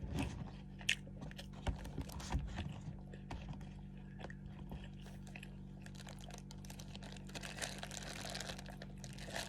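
Someone eats rice packed in a plastic bag, with quiet close chewing and crunchy bites plus light plastic crinkling over a steady low hum, no talking.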